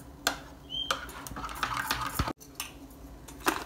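A utensil scraping and clinking against a bowl while homemade ranch sauce with oregano is stirred, scattered close taps and scrapes at an uneven rhythm.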